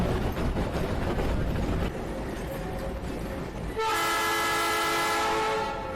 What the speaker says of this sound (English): train rides behind a genuine steam engine round out the grounds